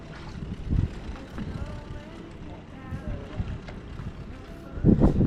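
3D tender dinghies race on open water, where a motor hums beneath gusts of wind buffeting the microphone and splashing sloshes around, with voices talking over it.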